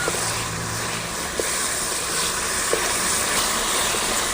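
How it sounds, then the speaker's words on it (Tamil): Ivy gourd stir-frying in oil in a village kitchen, a steady broadband sizzle with a few soft clicks from stirring, close and continuous with no talk. "கோவக்காயை கொட்டி எண்ணெயிலே நல்லா வதக்க வேணும் நல்லா எண்ணெயில் பொரியிற மாதிரி வதக்கணும்"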